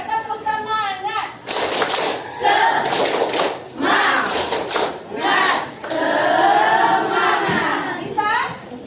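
A group of schoolchildren in a classroom performs the tepuk semangat spirit clap, with rhythmic bursts of clapping mixed with loud shouted chanting voices, close and energetic, with speech-like calls between the clap patterns.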